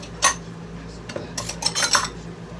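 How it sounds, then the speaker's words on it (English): Dishes being washed by hand, with cutlery and pots clattering close by in several sharp bursts of clinking metal and crockery against a quiet background. "I'm washing these dishes to get them out of the way."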